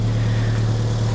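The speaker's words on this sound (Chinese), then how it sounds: "我的排气管破掉好吵" A Mercedes W123 230TE with a broken exhaust pipe, just repaired after a fuel distributor fault, runs at idle: a loud, constant, close-up low droning hum without variation.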